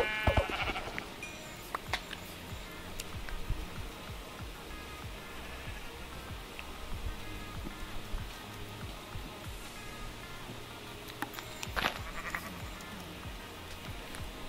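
Minecraft sheep bleat repeatedly, nearby and distinct, over a steady wash of in-game ambience with occasional clicks and no voices.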